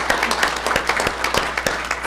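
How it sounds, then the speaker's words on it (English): A board meeting audience claps for an honoree, with distinct individual claps standing out against a softer background of hand claps across the whole moment. "while we're clapping for you"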